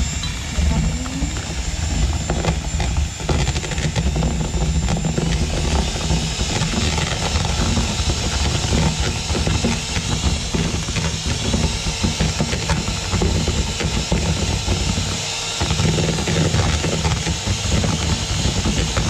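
Electric mixer whipping egg whites with a spoonful of sugar for an Easter lamb cake batter, a steady loud whirring drone running throughout with a brief dip near the end.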